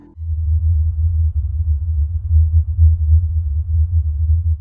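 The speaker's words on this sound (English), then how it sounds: "This low-frequency sound, often described as something akin to a distant diesel engine idling" A steady, low droning hum likened to a distant idling diesel engine, continuous and throbbing with slight pulsing swells, alone with no voices, as heard at places like Taos, New Mexico and Bristol in the UK.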